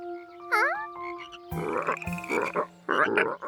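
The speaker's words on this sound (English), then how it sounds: "These loud frogs probably scared the tadpoles away." Loud frogs croaking near the water in a cartoon pond scene, a rising warbling call followed by a dense run of raspy, pulsing croaks that fill the rest of the clip.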